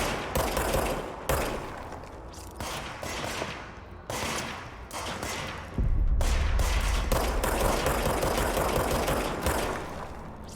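Enemy gunfire in the game Control: repeated bursts of loud automatic shots in choppy clusters, with a heavier boom rising near the middle and continuing rapid fire afterward.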